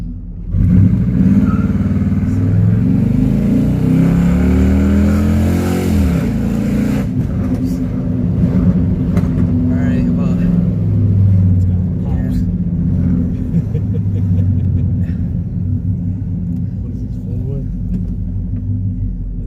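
An old V8 muscle car engine rumbles loudly up close, a deep heavy idle that swells with a rev partway through, then settles back into a steady throaty drone.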